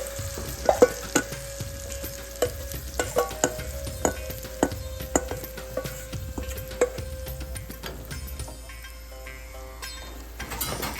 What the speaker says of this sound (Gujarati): સારી રીતે બધી વસ્તુને હવે મિક્સ કરી લેવાની છે